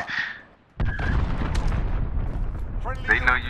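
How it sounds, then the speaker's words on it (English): An enemy cruise missile explodes in a video game: after a short incoming alert, a sudden heavy boom hits and rumbles on with crackling debris for a few seconds, before a short electronic tone returns near the end. "Enemy cruise missile incoming."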